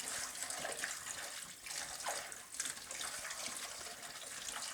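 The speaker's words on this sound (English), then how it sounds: "Wash the potatoes until you get rid of all the starch." Tap water runs steadily and loudly into a sink while potatoes are rinsed of their starch, a continuous splashing gush with small swells and dips and no talking.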